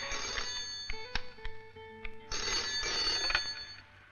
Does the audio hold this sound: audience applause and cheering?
no